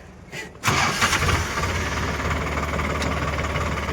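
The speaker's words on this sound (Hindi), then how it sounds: "करते हैं अपना ट्रैक्टर स्टार्ट।" A tractor engine cranks briefly and catches, then settles into a steady, loud rumbling idle that continues to the end.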